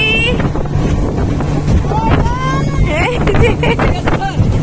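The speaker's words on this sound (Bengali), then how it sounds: "এই যে আমরা এখন স্পিড বোটে" A speedboat on the Padma river in Bangladesh, its steady low engine drone running under wind rush while people talk nearby.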